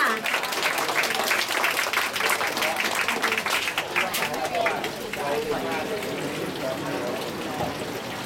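Audience applause at a birthday party prize draw, a dense, steady patter of clapping throughout with a voice speaking over it.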